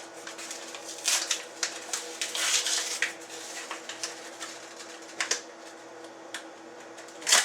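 A Ninja 1200 mixer works flour into peanut butter cookie dough, giving a steady close whirring with repeated clattering knocks and bumps, heard alone without talk.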